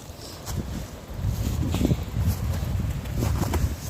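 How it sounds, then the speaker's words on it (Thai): Strong wind gusting outdoors in an overgrown garden, a low rumbling roar that swells and buffets the microphone in waves, with faint rustling leaves and no talk. "ลมแรงมาก"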